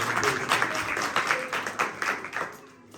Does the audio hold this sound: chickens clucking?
no